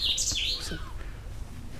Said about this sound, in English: That's seagulls.